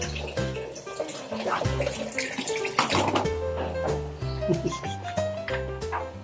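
Water runs steadily from a tap, pouring and splashing into a pan, while a dog barks intermittently in the background.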